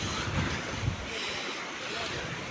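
Wind buffets the microphone over a constant wash of waves and open water, with no clear voices.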